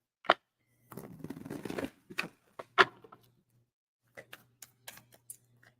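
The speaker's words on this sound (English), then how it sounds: "I'm going to shuffle one more deck." A deck of tarot cards is shuffled close up: a sharp snap, a second-long riffling flutter, then scattered light taps and clicks of cards being squared and handled in quiet surroundings.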